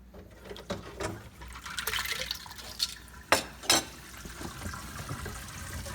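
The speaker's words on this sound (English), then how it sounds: "Now we have the sink filled up again, and let's go ahead and drain it for the second time." Water draining from a kitchen sink fitted with a basket strainer sealed with plumber's putty: quiet gurgling and trickling with a few sharper sloshes, close by and alone.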